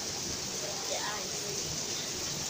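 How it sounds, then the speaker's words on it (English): Heavy rain with hail pours down on a stormy day in San Antonio, a dense, even hiss of falling water that stays steady and moderately loud throughout. "And hail falling out the sky."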